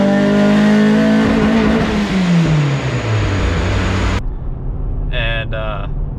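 Mazda Miata track car engine tuned with rusEFI, revving loud and close with a falling engine note and tire noise, then cutting off abruptly as it hits fuel cut.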